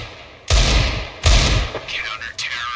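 Desert Eagle pistol shots in Counter-Strike: Global Offensive, two loud close blasts about a second apart followed by fainter shots and echoes, with people talking alongside.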